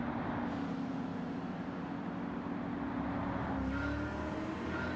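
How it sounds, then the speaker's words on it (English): A Shelby car's engine drones steadily in the Gran Turismo racing video game, a sustained hum that shifts pitch slightly as it drives, with a brief rise in revs partway through. "Do like this Shelby, it's a really nice car. Drives really well."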